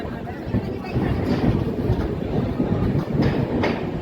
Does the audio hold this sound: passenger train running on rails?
yes